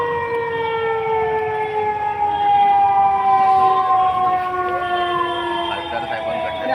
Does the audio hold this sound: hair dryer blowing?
no